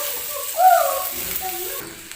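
Hyacinth bean pods already fried in oil are stirred and mixed in a pan, giving a steady sizzle with a brief louder swell of scraping and frying near the start, alone without talk.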